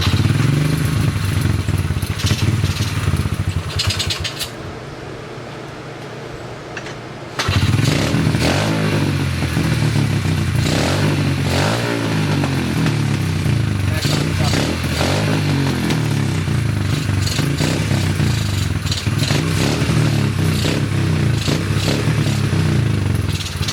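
A Honda CRF50 pit bike with an upgraded carburetor runs steadily up close, its small engine buzzing loudly and continuously, with a brief dip in level partway through before it picks back up.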